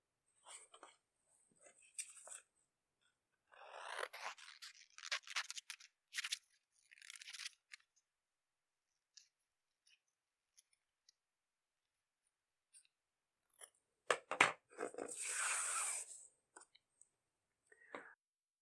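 Scissors snip out a bow tie shape from a template, making short bursts of crisp cuts separated by pauses, then a final flurry of snipping near the end, close and clear in a quiet room.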